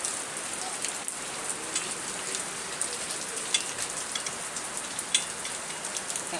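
Heavy rain falls steadily outdoors, a dense, constant hiss with scattered sharper drops spattering on surfaces nearby.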